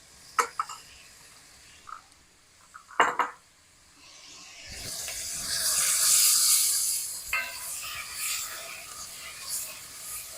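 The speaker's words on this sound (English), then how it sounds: "we're going to stir this until it's fragrant and starting to separate" Onions, ginger and garlic stirred in a pot on the stove, a few soft knocks and scrapes of a spoon followed by a rising hiss of steam and sizzling, faint and close.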